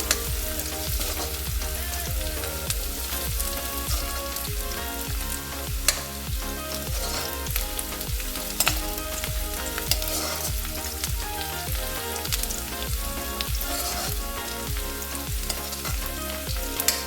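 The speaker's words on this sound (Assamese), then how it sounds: "দুই মিনিটমান এনেকৈ পিঁয়াজখিনি ভাজি থাকিম।" Onions fry with bay leaves in a pan, a loud, steady, crackling sizzle that runs unbroken throughout with faint clinks, close by and with no talking.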